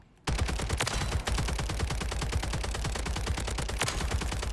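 A double-barrel gun in a video game firing range fires rapidly and continuously, a loud sustained stream of sharp reports after a brief quiet start.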